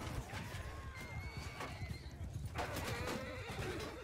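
A horse neighs and whinnies, with clip-clopping hooves running steadily underneath, in the video game Mount & Blade II: Bannerlord. Moderately loud, with a battle-like bustle in the background.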